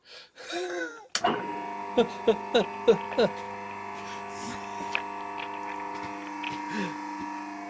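A hydraulic press switched on and driven downward, a steady electric motor hum with a run of short regular pulses near the start, followed by faint knocks and a brief voice.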